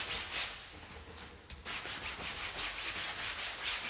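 Cloth or brush rubbing underpaint on a painting, a close rhythmic scrubbing of back-and-forth strokes, about two per second, soft and steady with a brief pause midway.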